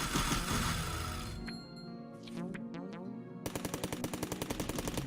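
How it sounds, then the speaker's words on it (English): The blade gun in the game Cally's Trials fires in rapid bursts of sharp, fast repeating shots. Other game sound effects play between the bursts, and a voice talks over the gameplay. "the blade gun just outright destroys everything"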